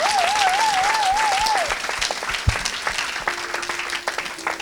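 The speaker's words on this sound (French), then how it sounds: "Est-ce que tu peux acclamer encore plus fort?" Congregation applauding and cheering at a church service, a dense burst of clapping with a sustained sung or shouted tone over it at first, then thinning into scattered claps.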